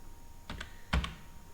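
A few computer keystrokes entering a PAN card number into Tally ERP9 accounting software, two soft clustered taps then a louder pair, close and alone on a quiet background.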